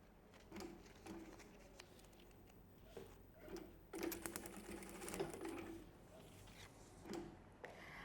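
A sewing machine stitches the strap of a small children's backpack, sounding faintly as soft patter with short runs of stitching and a busier stretch in the middle.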